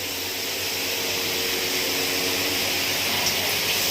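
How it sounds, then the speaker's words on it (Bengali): Steady rushing water from a kitchen tap fills a cooking pot just rinsed, a continuous broadband flow held at an even, fairly loud level throughout with no talk. "এই পাত্রটা ধুয়ে অল্প একটু জল দিয়ে দেবো"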